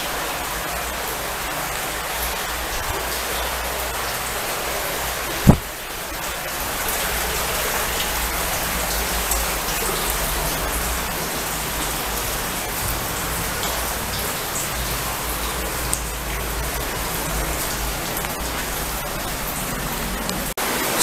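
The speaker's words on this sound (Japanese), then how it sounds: "水の音が、なんか雨がね、ポタポタと垂れてきますね" Water drips and trickles from the ceiling of a limestone cave, a steady dense patter like rain on hard surfaces, continuous throughout with one sharp louder drop or knock partway through.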